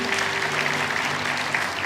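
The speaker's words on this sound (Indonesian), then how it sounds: "Yang percaya kasih tepuk tangan untuk Tuhan." A church congregation claps together in a steady, dense round of applause for God, with a low sustained hum beneath it.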